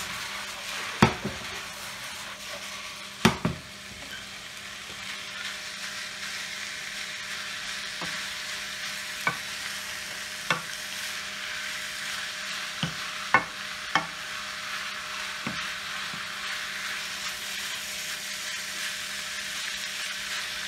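Minced meat sizzles steadily in a hot pan for a long stretch, with occasional sharp scrapes and taps as a utensil breaks it apart, and no talk over it.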